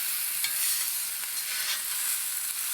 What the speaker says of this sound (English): We're gonna char another lemon.